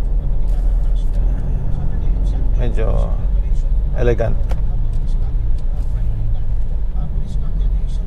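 A Mazda BT-50 automatic pickup drives on a road, its steady low engine and road rumble continuous throughout, with someone talking over it from inside the cab.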